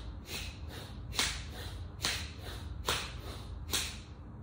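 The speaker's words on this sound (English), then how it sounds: "So we inhale and exhale through the nose, but with force and effort." Forceful breaths pushed in and out through the nose, five sharp rushing bursts at a steady pace of a bit under one per second, close and alone with no talk.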